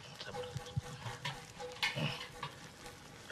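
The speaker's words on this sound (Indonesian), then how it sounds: "Coba cek itu kayaknya sudah mendidih itu." Water boils in a cooking pot in a home in the Boven Digoel area of Papua, giving a steady, soft bubbling and sizzling hiss with small pops throughout.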